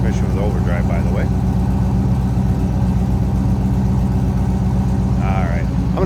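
A 1972 Chevrolet Chevelle with a 6-liter Chevy V8 and a 700R4 automatic idles with a loud, close, steady low rumble, with brief speech over it at the start and again near the end.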